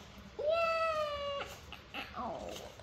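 A child imitates a cat, giving one drawn-out, wavering meow followed by a few softer, breathy vocal sounds, close and fairly quiet.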